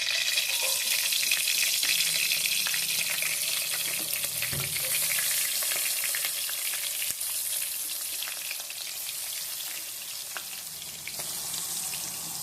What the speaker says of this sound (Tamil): இப்போ நம்ம ஃபிஷ்ஷை போட்டுக்கலாம்.